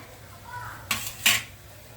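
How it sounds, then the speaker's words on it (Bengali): A metal kadai is set down on a stove after a tawa, giving two sharp clanks of metal on metal in quick succession over a quiet background. "কড়াইটা বসিয়ে দিচ্ছি।"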